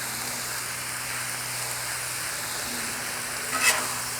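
Ribeye and Hatch green chile sizzle steadily on a Camp Chef griddle, a constant close frying hiss with a brief scrape of stirring near the end.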